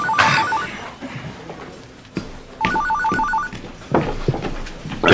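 In a police detective office, a telephone bell rings in two repeated trilling bursts, fairly loud and near, amid some background clatter.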